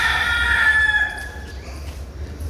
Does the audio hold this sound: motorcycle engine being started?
no